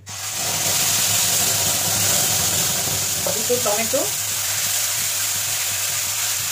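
Tomato puree sizzles and fries in hot mustard oil in a kadai, a loud, steady hiss that starts abruptly and carries on throughout, with a brief stirring or scraping sound partway through.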